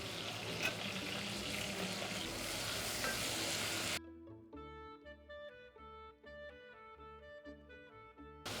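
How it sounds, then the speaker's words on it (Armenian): Chili peppers and okra fry in hot oil with a loud, dense sizzle for about four seconds before it cuts off and music takes over for the rest. "Հա, տեսեք ինչպես են տապակվում"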